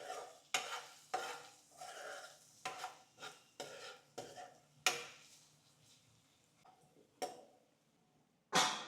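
Onions frying in a pan for coriander egg bhurji are stirred with a spoon, a string of sharp scraping strokes every second or so over a low, steady sizzle, close up with no voices.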